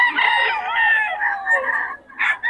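A sweater gamefowl rooster crows at Bocaue, one long, loud, close cock-a-doodle-doo that trails off, followed by a short extra squawk with no talk over it.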